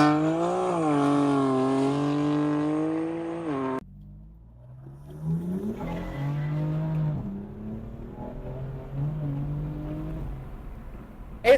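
A BMW M4 Competition engine revs hard, climbing and falling in a loud, throaty wail, then cuts off briefly before a second rising rev and a sustained, rumbling pull.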